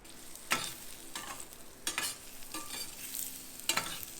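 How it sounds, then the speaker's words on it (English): Sweet potatoes sizzle in hot ghee in a pan, with several sharp scraping stirs spaced through a soft, continuous fry. "once it's going hot, then we add our sweet potatoes in this"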